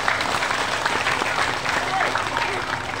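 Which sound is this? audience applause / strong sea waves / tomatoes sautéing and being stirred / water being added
audience applause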